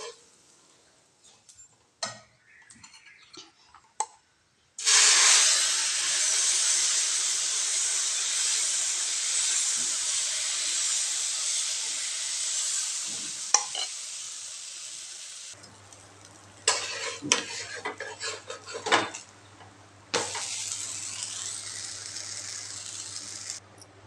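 Mudakkathan greens dosa cooking on a hot pan, giving a steady loud hiss and sizzle for several seconds after a few soft clicks, then quieter bursts of sizzling toward the end with a low hum underneath.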